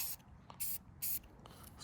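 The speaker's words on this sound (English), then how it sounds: "just give these nails a quick spritz" A few short, quiet hissing bursts from a spray paint can on roof flashing nails, two or three brief spritzes separated by pauses against a faint background.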